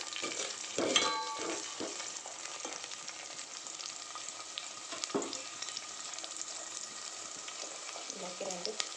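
Onions fry in oil in a pan with a constant, even sizzle and a few stirring scrapes and taps, moderately quiet with no voices.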